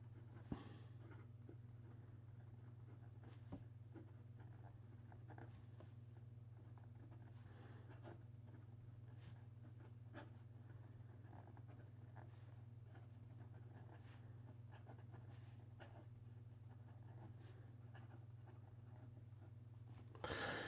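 Esterbrook JR fountain pen with a stiff nib writing on paper, faint scratchy strokes and occasional taps over a steady low background hum, quiet and close.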